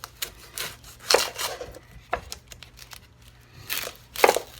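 Knife chops a Spanish onion for chili in short, irregular bursts of cutting on a board, several sharp strikes with quiet gaps between, close up and fairly soft.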